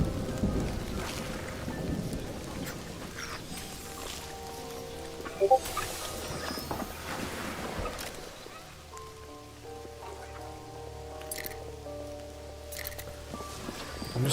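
Steady rain hissing across the scene in the video game Mind over Magic, with a couple of low thunder rumbles and an occasional bird call, continuing evenly throughout.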